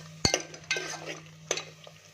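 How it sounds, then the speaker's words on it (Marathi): Spice masala for a village-style mutton curry is stirred and sautéed in a pan, with a few sharp scrapes of a spoon over a soft sizzle, close and fairly quiet. "मसाला असं चांगला परतून घ्यायचं."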